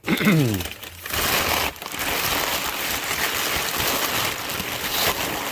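Packing paper crinkles and rustles inside a shipping box during a Lego and Target haul unboxing, a loud, continuous close-up crackle lasting several seconds, with a brief voice at the very start.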